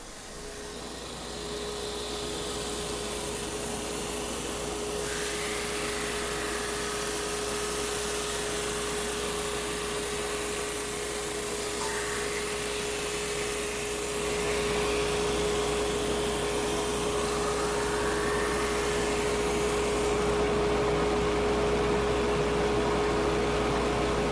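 A vacuum cleaner sucks up sawdust in a workshop, a loud, steady droning whoosh with a constant hum that runs without pause for the whole stretch, with no voices.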